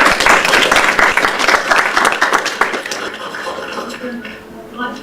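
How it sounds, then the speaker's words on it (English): An audience at a College of Humanities and Social Sciences awards ceremony breaks into loud, close applause. The dense clapping lasts about three seconds, then fades away into quieter hall sound. "I think a round of applause for them in absentia"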